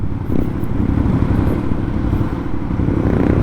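Aprilia Shiver 900 motorcycle engine on a test ride, a steady, loud low rumble that holds constant throughout with no clear revving.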